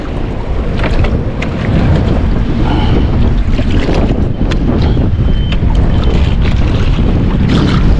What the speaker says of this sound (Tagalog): Dahil lumalakas na rin po ang hangin.